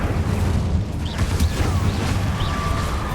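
An Incendio fire spell cast in the video game Hogwarts Legacy roars as a steady, dense whoosh of flame and rumble, with small crackles and creaks layered through it, continuous and fairly loud.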